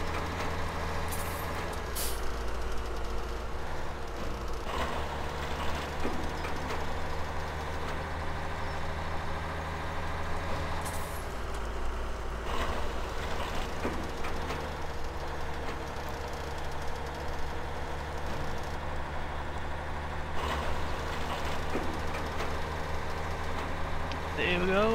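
A small tractor engine idles in Farming Simulator 2017 with a steady low drone and occasional hissing air-brake bursts, while someone talks over it.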